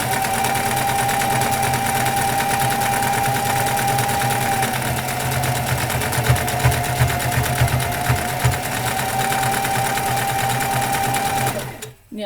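A sewing machine runs steadily while stitching through fabric, a continuous close whirring hum for most of the stretch before it stops abruptly near the end.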